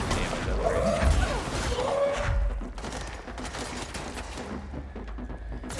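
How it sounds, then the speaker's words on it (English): Gunfire in the video game Control comes as a burst of loud shots and impacts in the first two seconds, then a quieter stretch of scattered thuds and game ambience. "You know how the gunshot sounds are, by the way, too."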